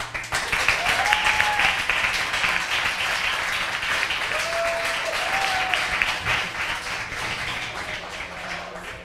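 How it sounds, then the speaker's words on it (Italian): Steady audience applause at a music festival evening, a dense, even wash of clapping with a few faint whistles rising above it, continuing throughout. "Un applauso a lui."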